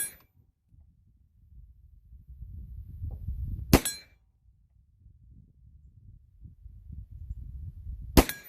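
A Ruger PC Charger fires two sharp, loud shots at an outdoor range, several seconds apart, each a crisp crack over a low rumbling background.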